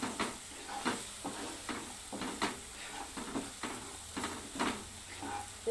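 Mixed vegetables being sautéed in oil for mix bhaji crackle and sizzle softly, with a spoon scraping the pan in regular stirring strokes, fairly close and quiet.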